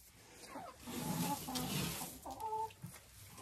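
Young laying hens clucking softly near a hopper feeder filled with wheat, corn and compound feed, with several short rising calls and low murmurs from nearby birds.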